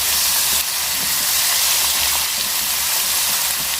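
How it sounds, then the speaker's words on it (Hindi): Spice masala with crushed nutmeg and mace being fried in a pan for beef pasanday, giving a steady broadband sizzle and hiss that stays constant and fairly close throughout, with no talking. "अब हम इस मसाले को भूनते हैं।"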